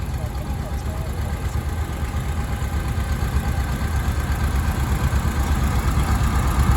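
A 1955 Farmall 200 tractor engine runs with a steady low chugging rumble, fairly close, continuing without a break, at a classic tractor show.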